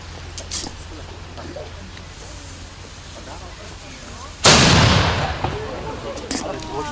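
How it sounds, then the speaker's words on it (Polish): A single loud blast from a hakownica, an old hook gun, fired as an honorary salute at a monument ceremony, booming suddenly out of quiet outdoor ambience and trailing off in a rumbling echo. "proszę o salwę honorową z Kachownicy"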